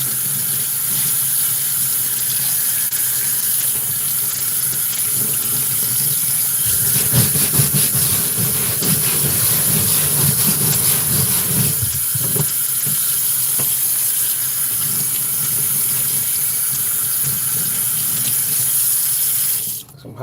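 Hot water runs steadily from a tap into a sink or bucket, a loud continuous gushing stream with a brief heavier splashing surge midway, then cut off at the end; no talking.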